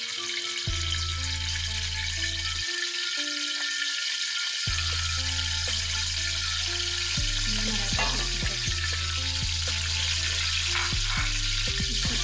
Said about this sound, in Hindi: ये हमारा कुकिंग ऑयल गर्म हो चुका है। हम इसमें अदरक लहसुन का पेस्ट डालें।